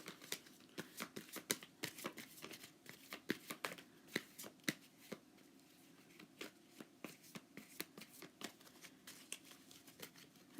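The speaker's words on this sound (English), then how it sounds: "I'm just shuffling in the meantime." Tarot cards are shuffled by hand, with a long run of crisp, rhythmic card slaps and riffles, quiet and close, and no talking.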